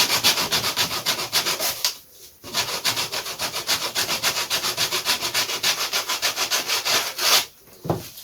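Rapid rhythmic back-and-forth sanding strokes on a wooden RC model aircraft wing, close and fairly loud, with two brief pauses before the rasping resumes.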